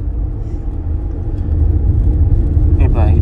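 An automatic-transmission car climbs a hill road in third gear under gentle throttle, its engine giving a steady low drone and road rumble that swells slightly partway through, with a brief voice near the end.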